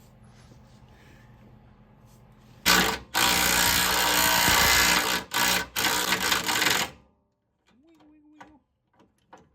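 A power drill works on a Dodge Durango/Dakota torsion bar key, running in loud, close bursts of whirring and grinding with short stops between them. Quieter moments before and after hold faint background noise.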